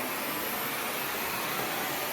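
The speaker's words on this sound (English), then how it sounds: "Everything I pick up is carried off to the central vacuum power unit." A central vacuum system runs with its power unit in the basement, a steady, loud broadband whoosh of suction airflow that continues unbroken and alone.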